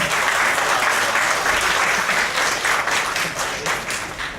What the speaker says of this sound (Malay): Tepukan yang gemuruh untuk Profesor.